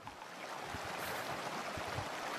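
A waterfall in a video game, a steady broadband rush of falling water that fills the whole clip at an even, moderate level with no voices.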